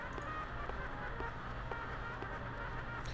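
A honking, goose-like bird call from the Fran Bow game sounds faintly in a quiet, droning scene, with a few short calls spread across several seconds and no one speaking.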